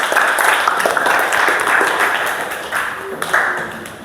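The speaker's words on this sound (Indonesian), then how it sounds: "Kita berikan tepuk tangan ke Destia" Classroom applause as students clap for a classmate after a presentation, a loud, close burst of irregular hand claps with a few sharper individual claps, fading slightly near the end.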